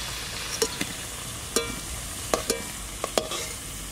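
Frying in a pan while preparing a raw jackfruit kalia, with a constant sizzling hiss broken by several sharp clinks and scrapes of a spatula stirring.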